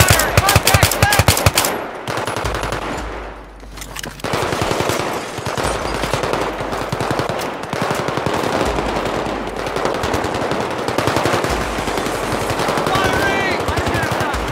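Loud, dense automatic gunfire from a Battlefield 3 campaign firefight, with rapid machine-gun bursts and single shots running almost continuously, a brief lull near the middle, and occasional shouted voices mixed in.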